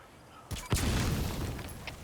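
Explosions in the video game Metal Gear Solid V: The Phantom Pain, a sudden muffled boom followed by a rumbling roar that lingers for over a second.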